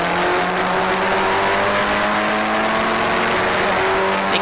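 Historic Formula Ford race cars at Cadwell Park scream past in a loud, continuous engine howl, several cars bunched together with rising and falling pitches as they pass close by.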